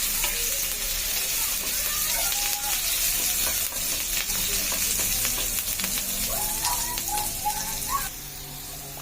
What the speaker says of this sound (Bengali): দেবো কাঁচা লঙ্কা, গোটা জিরে আর কাঁচা লঙ্কাটা আগে একটু ভেজে নেবো।